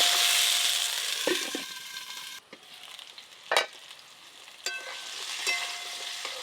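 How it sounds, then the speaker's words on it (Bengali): Potato and eggplant pieces fry in oil with turmeric and no salt, a loud bright sizzle that drops to a quieter crackle, broken by sharp scraping clinks of a spatula stirring in the pan. "তাই আমি লবণ দিলাম না, হলুদ দিয়েই ভাজবো।"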